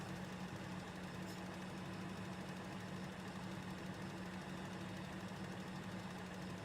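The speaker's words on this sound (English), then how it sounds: "See if they can make these two tractors glide." Two tractor engines in Farming Simulator 2013, a constant low rumbling drone with a knocking, vibrating idle-like hum, steady and faint throughout with no talk.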